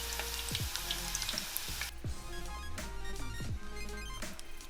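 Miracle Noodles pasta frying in oil in a pan, a steady dense sizzle and crackle running throughout, with a few brief clinks and scrapes of utensils.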